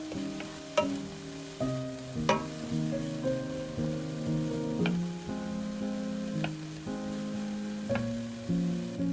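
Chopped pepper and ham frying in a skillet over medium-low heat, a steady soft sizzle broken by the scrape and clink of a utensil stirring repeatedly, close up, with tonal background music running throughout.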